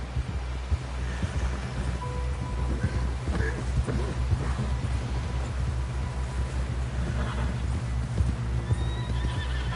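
In the Red Dead game, a horse gallops with a rapid, steady clip-clop of hooves, loud and close, while whinnies break through over a low rumbling background.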